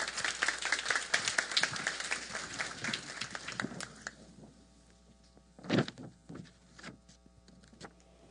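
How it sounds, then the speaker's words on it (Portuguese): A studio audience applauds to welcome a guest speaker on stage, scattered claps dense at first and thinning out after a few seconds, with a few louder isolated sounds near the end. "Vamos receber com aplauso de boas-vindas."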